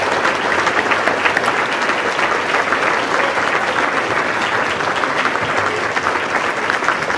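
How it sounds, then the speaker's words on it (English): Banquet guests at a Great Lakes Planetarium Association awards event give steady, full-room applause for an award recipient, a dense continuous wash of clapping from start to finish with no voices over it. "Please give him a big round of applause."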